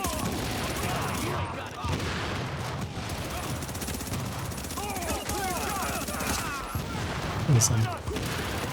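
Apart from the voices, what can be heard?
gunfire in a shooter video game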